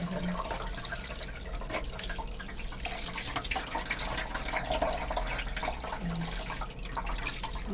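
Water streams steadily from a tap while a tilapia is cleaned, a continuous close rush with faint drips and splashes.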